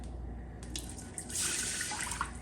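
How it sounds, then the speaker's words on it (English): A cup of water poured into a cooking pot, a thin splashing, trickling stream close by over a low steady hum from the kitchen. "I'm gonna add a cup of water into there"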